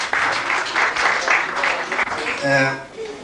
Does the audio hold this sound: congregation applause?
yes